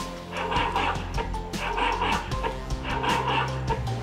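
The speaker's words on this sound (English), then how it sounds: "So when it hears a sharp sound now, you will see it will start barking." Repeated electronic-sounding barks and yips from a robotic dog in quick bursts, close and fairly loud, with short pauses between them and no talking.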